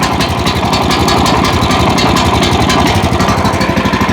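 Walk-behind tractor engine running at a steady, loud idle just after starting, with a continuous rapid chugging throb and no talk.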